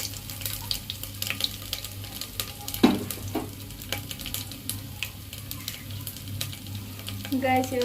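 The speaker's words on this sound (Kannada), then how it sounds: "ಶುಂಠಿ ಬೆಳ್ಳುಳ್ಳಿ ಸ್ವಲ್ಪ ಚೆನ್ನಾಗಿ ಫ್ರೈ ಆಗ್ತದೆ ಗೈಸ್." Ginger and garlic frying in oil for mutton gravy give a low, steady sizzle with scattered stirring clinks and scrapes, plus a brief clatter near the middle and a water splash at the end. No one speaks.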